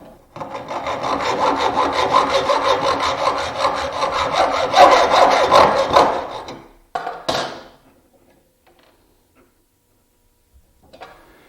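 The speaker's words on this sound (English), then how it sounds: "slide my piece in and saw it off to length" A hacksaw cuts a small shelf pin to length in steady, rasping back-and-forth strokes for several seconds, close up, then a brief final scrape and quiet.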